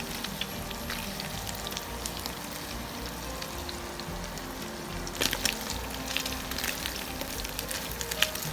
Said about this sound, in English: I am lightly shallow frying the sardine fish in the oil